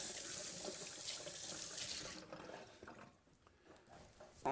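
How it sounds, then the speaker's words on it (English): Fingers being rinsed under a running tap, with water gushing loudly into a sink for a couple of seconds before the flow eases into softer splashes and drips. "you need to wash and rinse your fingers"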